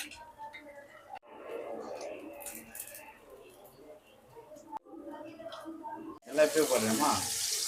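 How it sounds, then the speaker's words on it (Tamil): A voice talks over quiet kitchen sounds, then water pours in a loud rushing splash into a pot of sardine curry with turmeric and tamarind water near the end. "இப்போ தண்ணி ஊற்றிக்கலாம்."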